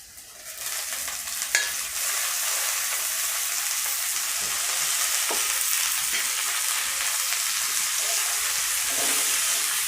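Gima greens fry in oil over onions, giving a steady, dense, close sizzle with a few soft stirring scrapes and no talking.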